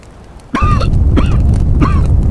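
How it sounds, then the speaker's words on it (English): Three harsh coughs in a video game, spaced about evenly apart, heard over a loud, constant low rumbling background. "Somewhere in the smoke, I could hear coughing."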